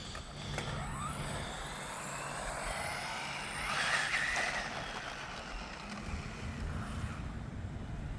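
Gusty wind buffets the microphone outdoors during a first run of an Arrma Mojave Grom RC truck on 2S, a steady low rumble with a louder gust midway, mixed with distant motor whine.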